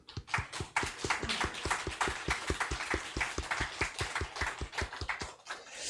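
A church congregation at a Sunday morning worship service claps in unison, a steady, even rhythm of distinct claps repeating about four to five times per second, moderately loud and sustained.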